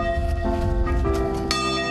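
A church bell rung by hand for Sunday worship in a village church, struck in a steady series of resonant, ringing tones that overlap and sustain, fairly close and loud with no talk.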